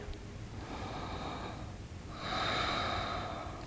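Slow breaths during a yoga pose in a beginner session: a long, soft airy inhale, a short pause, then a stronger, louder exhale, faint and close with no talk.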